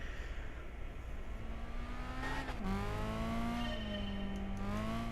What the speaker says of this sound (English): Sounds kind of like a rally car.